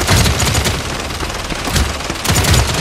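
Rapid automatic gunfire rattles in a casual online match of the PC shooter Paladins, dense loud bursts that pulse in waves over about three seconds with no speech.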